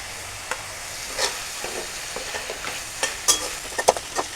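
Fish curry fries in a pan as ginger and garlic go in, with a continuous close sizzle and scattered stirring scrapes and taps that get busier toward the end.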